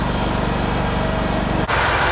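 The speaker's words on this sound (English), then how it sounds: "see Kaleb doing a little bit of mowing on top of the hill up here" A Scag riding lawn mower engine runs steadily while mowing a hilltop behind a house, loud and close with a constant low drone, briefly dipping for an instant before carrying on.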